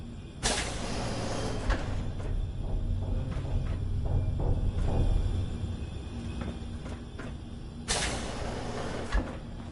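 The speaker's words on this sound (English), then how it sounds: "This door's on the fritz." A malfunctioning door in the video game Fallout 4 gives bursts of harsh hissing and clanking, with loud grinding rushes at the start and near the end over low mechanical rumble.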